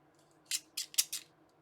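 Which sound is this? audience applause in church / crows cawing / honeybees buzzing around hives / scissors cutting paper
scissors cutting paper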